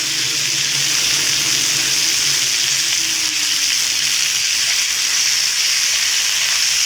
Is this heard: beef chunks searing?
yes